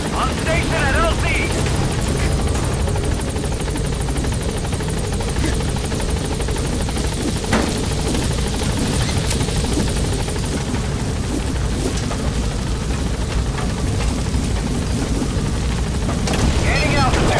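The Pequod helicopter from the game Metal Gear Solid V, its rotor and engine thrumming loud and constant throughout, with wind noise and radio voices speaking over it.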